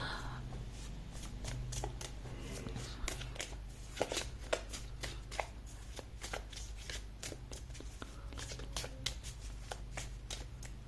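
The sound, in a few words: tarot cards being shuffled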